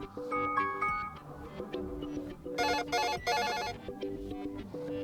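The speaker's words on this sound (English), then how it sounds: "The default alarm sound," An Xreal Beam Pro sounds its default alarm tone as a repeating electronic ringtone melody. A dense, bell-like burst of notes sits in the middle, and the tone plays steadily and up close with no voice over it.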